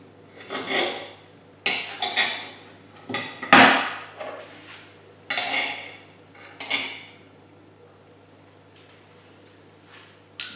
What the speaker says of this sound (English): So I'm going to slice them off and remove the center seed and cut into small dices.